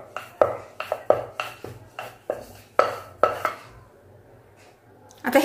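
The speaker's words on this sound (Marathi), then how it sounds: "आता आपण लाटून घेऊया व्यवस्थित।" Dough for suter feni karanji is rolled out on a board, producing a close, regular series of sharp wooden knocks and clacks about twice a second, then a short lull before a louder clatter at the end.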